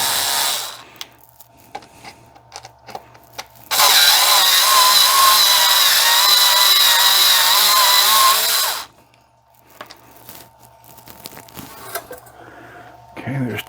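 A power tool, likely a drill or driver, whirs loud and steady for about five seconds while removing screws from a Losi 5T RC car, with quieter handling noises before and after.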